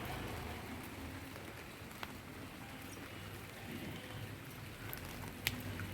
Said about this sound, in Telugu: వాతావరణం ఫుల్ వర్షంగా ఉంది